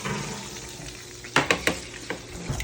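Bacon frying in a pan on a small home kitchen stove, a steady low sizzle with a few louder clatters and scrapes as the strips are moved around near the microphone.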